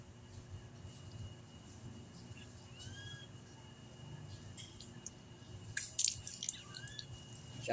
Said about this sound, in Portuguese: Já saiu o resto da água que está no cano.